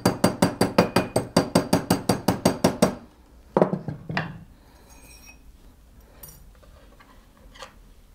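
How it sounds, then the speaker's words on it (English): A hammer taps a silver stacking bangle on a mandrel to remove a small dent: about fifteen rapid, evenly spaced metallic clinks up close, followed by a couple of heavier knocks and faint handling sounds. "I'm just going to go back on my mandrel and just tap that little area out."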